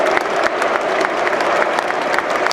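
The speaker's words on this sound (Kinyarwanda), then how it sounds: "Stade yose imukomera amashyi," A full stadium crowd at a football match applauds a newly signed Newcastle player, a loud, dense wash of clapping with some crowd noise that holds steady throughout.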